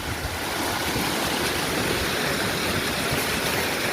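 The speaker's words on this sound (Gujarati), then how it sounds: "બાકી અહીંથી જાય પાણી જોઈ લો" Knee-deep floodwater pours through a farm field after sowing, making a loud, continuous rushing close by, steady throughout with no talking.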